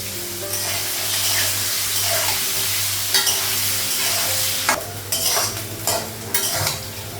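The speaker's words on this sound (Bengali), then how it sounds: "আলুটা আর গাজরটা একটু ভেজে নেব।" Potatoes and carrots fry in a pan in a Bengali home kitchen, a continuous sizzle broken by several loud bursts of stirring and scraping toward the end.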